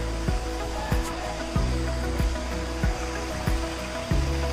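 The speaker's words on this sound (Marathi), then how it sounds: "हा तो धबधबा" Dharkhora waterfall in Melghat, running with low water, gives a steady broadband rush, with regular low thuds recurring over it about every half second.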